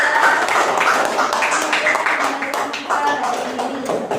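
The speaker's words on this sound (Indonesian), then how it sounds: "tepuk tangan untuk temannya" Classroom students in an Indonesian eighth-grade Arabic lesson clap for a classmate, a lively patter of many small hands close by, mixed with scattered taps and a voice in the background.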